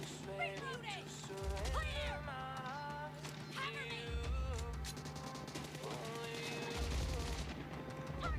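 M200 sniper rifle gunfire in PUBG Mobile, a series of sharp shots and bursts mixed with in-game effects and music, heard at moderate level alongside other game audio.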